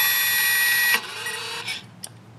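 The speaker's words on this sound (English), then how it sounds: "So you're going to hear the motor unwind." A Lexus electric parking brake motor driven straight from a power lead whirs steadily and loud for about a second, then drops away with a faint tail and a small click as it bottoms out.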